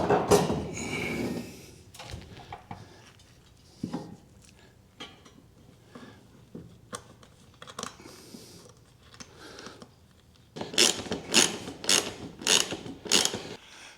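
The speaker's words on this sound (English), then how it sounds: "I just want to bolt in my mount here that the TV is going to sit into." A ratchet bolts a TV wall mount in place in a workshop, with bursts of rapid clicking separated by quiet pauses and a quicker, louder run of clicks near the end.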